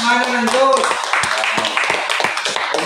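Short burst of clapping from the audience at a church pastors conference, following a voice and continuing as scattered claps with voices mixed in.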